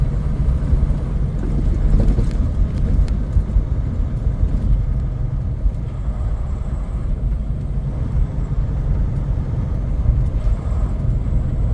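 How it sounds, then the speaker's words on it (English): Truck engine brake working on a snowy downhill grade on the Dalton Highway at Atigun, a loud steady low rumbling drone heard from inside the cab without any talk. "Turn on our engine brake."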